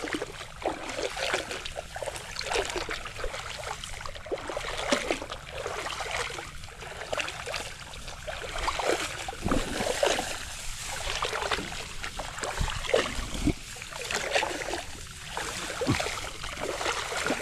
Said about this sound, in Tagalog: Dinaanan ng bangka, oh.